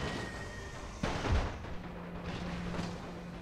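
Gunfire and artillery from troops on a flank in The Great War video game, with a sharp heavy boom about a second in over a steady rumbling battle din, followed by scattered distant shots.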